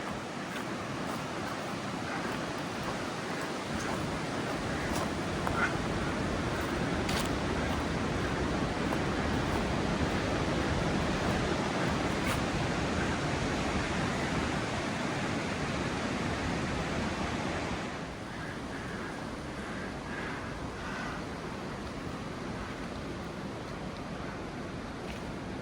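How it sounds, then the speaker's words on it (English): Strong wind roars steadily across a mountain hiking trail in winter, a loud, broad, continuous rush with gusts buffeting the microphone, easing slightly in the final stretch. "I'm climbing a bit, but it's getting very windy."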